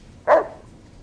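A single short, bright bark from Roxie, a dog companion in Fallout New Vegas, rings out close and clear, then trails into quiet.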